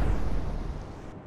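A single loud, deep boom of naval gunfire or a shell explosion in the naval video game Atlantic Fleet, rolling and decaying over about a second with no voices.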